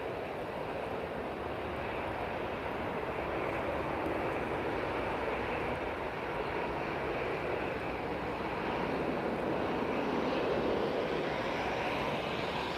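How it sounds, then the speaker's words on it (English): A Ryanair airliner lands at Lisbon Airport on a cloudy, windy evening, its engines a continuous broad roar held at steady volume throughout, with no voices. "Another rough landing by another Ryanair."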